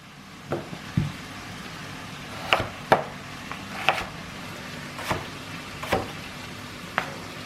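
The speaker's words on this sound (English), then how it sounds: "basically just cut some little chunks out of that" A knife chopping potatoes into chunks on a board while an elk tenderloin dinner is prepared; quiet, irregular knocks land about once a second over a faint steady background hiss.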